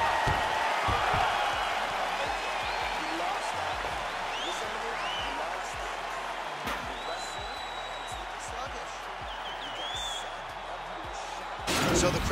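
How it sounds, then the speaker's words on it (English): A UFC arena crowd cheers and applauds after a round in a fight between Islam Makhachev and Israel Adesanya, a broad, steady roar filling the hall throughout, with whistles and whoops rising above it and a commentator talking over the noise. "So the crowd voicing its appreciation after that round."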